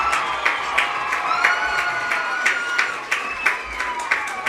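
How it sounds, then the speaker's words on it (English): A crowd at a high school football game, Loyal/Greenwood at Colby, claps and cheers with bright shouts and whistles rising over the steady applause, voices mixed throughout. "Big round of applause."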